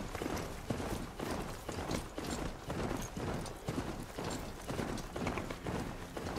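Horse hooves gallop in Horizon Zero Dawn, a fast, steady rhythmic clip-clop that is loud and close and continues throughout with no talking over it.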